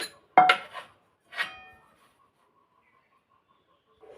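A bowl is picked up and set down in a home kitchen while Bengali coconut-poppy-mustard paturi is prepared: a few close clinks and knocks near the start, then quiet with a faint later bump.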